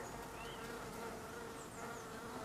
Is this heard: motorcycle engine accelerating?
no